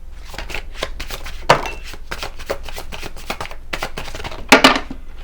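Oracle and tarot cards being shuffled, a steady papery riffling and slapping with a few louder snaps, close and alone without speech.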